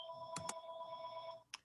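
A telephone rings in the background during an online board meeting, a steady electronic ring with sustained tones running almost the whole time and two short chirps near the start, then stopping briefly before one more chirp.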